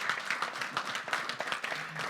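An audience claps and applauds at a morning workplace gathering, a brief dense patter of many hands heard at moderate distance, with a few faint voices mixed in.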